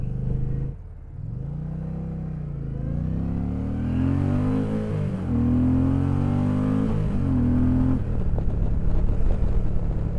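A Harley or Indian V-twin motorcycle engine runs steadily with a deep, loud rumble and rises in pitch through several rev swells, each held briefly before dropping back, heard up close with no talking.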